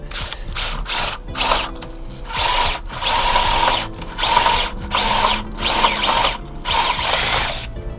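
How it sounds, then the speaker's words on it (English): A power drill drives a 16mm spade bit into a wooden door threshold board in repeated bursts, each high whirring grind starting and stopping with short pauses between, close and loud. "So I've got the drill bit, which is a 16mm spade bit, and we're looking at going about"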